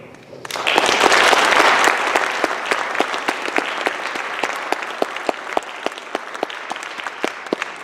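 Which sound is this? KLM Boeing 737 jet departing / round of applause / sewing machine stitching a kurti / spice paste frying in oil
round of applause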